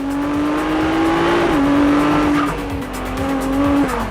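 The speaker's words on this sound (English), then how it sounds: "The combination of the turbo and hybrid engine will develop 830 horsepower" A Ferrari turbo-hybrid sports car rated at 830 horsepower roars loudly and close, its engine note holding steady with brief gear-shift dips while tires squeal over the sustained drone.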